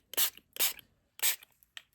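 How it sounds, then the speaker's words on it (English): Ink spray from a spray bottle pumped over paper in three quick hissing bursts with a fainter fourth, close and crisp in a quiet room. "I'm just very liberally spraying everything"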